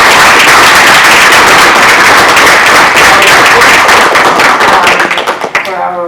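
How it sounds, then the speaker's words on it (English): A crowd applauds after a screening event for a team from NYU, with dense, loud, close clapping that carries on steadily before thinning out near the end, without talk. "Could I please ask for a warm round of applause?"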